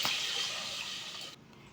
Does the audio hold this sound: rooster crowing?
no